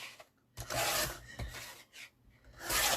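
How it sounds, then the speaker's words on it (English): Craft material being trimmed by hand, a few short bursts of rasping, rubbing cuts close by with brief pauses between them and no talk. "And now I'm just going to trim it."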